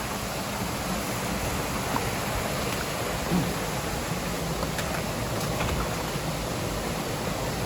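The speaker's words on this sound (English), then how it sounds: "Oh, this is final waterfall, and this is highest waterfall over this area." A tall waterfall in the mountainous Central Highlands of Vietnam roars as a steady, dense wash of rushing water, constant and fairly distant, with no voices over it.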